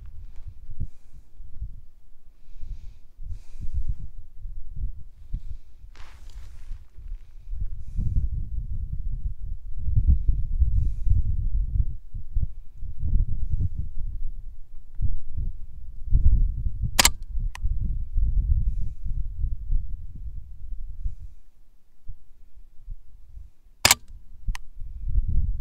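A Ruger 10/22 rifle fitted with a 2.5 lb trigger and a free-float barrel fires sharp, isolated cracks, spaced several seconds apart, over low rumbling wind noise, with no talk.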